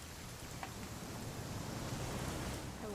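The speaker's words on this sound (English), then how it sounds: "It's gonna rain the whole weekend, isn't it?" Steady rain pours down in a constant hiss in the video game What Remains of Edith Finch, soft and even throughout, with no voices.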